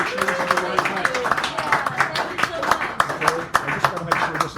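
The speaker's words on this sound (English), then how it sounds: "give her a nice round of applause as she comes up here" Audience at a San Francisco café poetry hour applauds as a poet comes up to the stage, a steady patter of hand claps under voices talking and chatter throughout.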